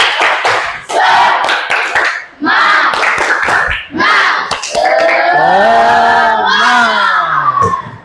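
A class of schoolchildren repeats a rhythmic spirit clap chant, with patterned group claps and shouted calls in quick bursts, then a loud, drawn-out collective shout that fills the room.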